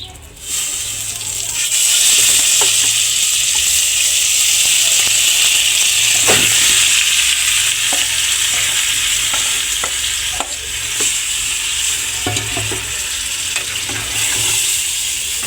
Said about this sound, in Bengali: জাস্ট যেই বুটটাকে আমরা সেদ্ধ করে ব্লেন্ড করে নিয়েছিলাম ওইটা এখন ঢেলে দিব।